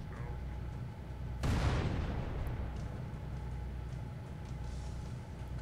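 An explosion goes off in a Halo CE mod, a sudden deep boom with a crackling burst that rumbles and fades over a few seconds above steady background game noise.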